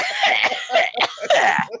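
A person coughs in several harsh, rapid bursts mixed with throat clearing, loud and close, with no talking.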